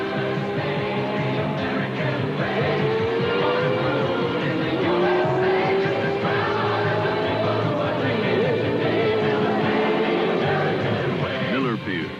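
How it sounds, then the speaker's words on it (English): The Miller American Indianapolis 500 race car screams past at speed, engine pitch swooping up and down with tire noise, while a voice talks over the roar. "The race, the Indianapolis 500. The car, the Miller American."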